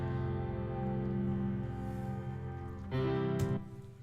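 An organ and a piano play the same soundtrack part together, with sustained organ chords beneath firmer piano notes and a clear chord change with a brighter attack near the three-second mark before the sound eases off.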